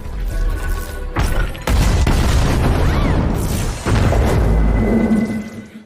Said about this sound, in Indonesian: Ledakan itu membuat mereka semakin panik